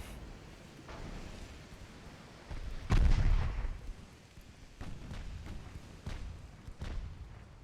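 Secondary guns on a battleship in Ultimate Admiral Dreadnoughts, 4-inch turrets and 6-inch casemate guns, fire in scattered booms: one heavy blast, then several sharper reports over faint wind and sea.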